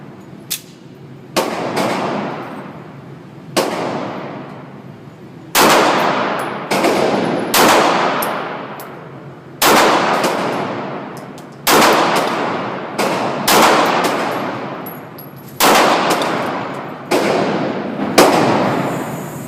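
Sig Sauer P226 pistol firing on a range, roughly a dozen sharp, loud gunshots at irregular one-to-two-second intervals, each cracking report trailing into a brief echoing decay.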